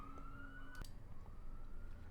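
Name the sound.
police car sirens passing outside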